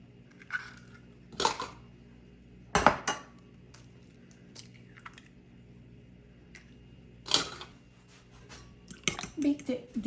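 Eggs beaten in a bowl for chicken parmigiana make irregular bursts of clattering utensil-on-dish taps, with a denser flurry of quick strikes near the end over a low background hum.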